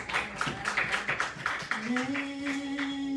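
A church congregation clapping in rhythm during a worship song at a prayer evening, even regular claps alongside singing voices, moderately faint and reverberant.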